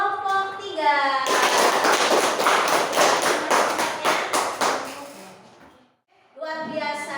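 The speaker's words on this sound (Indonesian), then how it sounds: "beri tepuk tangan untuk kelompok 3" A classroom of students applauds group 3, a dense burst of many hands clapping that swells for about four seconds, then fades into a brief quiet before a voice resumes; a voice also speaks just before the clapping begins.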